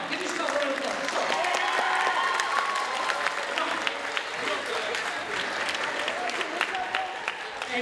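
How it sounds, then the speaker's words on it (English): Audience applause at a school STEAM expo, dense sustained clapping from a crowd throughout, loud and continuous with scattered sharper claps. "give yourself a round of applause"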